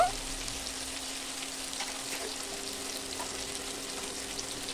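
Potatoes and tomatoes frying in a pan for a cabbage and palak curry, a steady close hiss of oil sizzling throughout with faint crackles, even and continuous, no voices.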